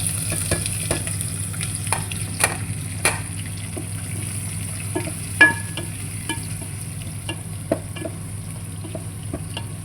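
Garlic, green chilies and onions frying in oil in a pan for Telugu-style tomato curry: a steady close sizzle with scattered pops and a few utensil clicks, no talk.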